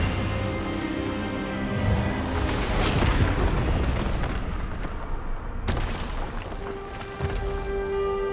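A spell cast in Hogwarts Legacy lands as a surging magical whoosh that builds into a heavy booming burst, followed by a sharp crack and a lingering rumble.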